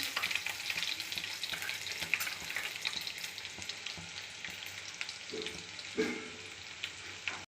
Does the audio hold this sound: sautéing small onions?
yes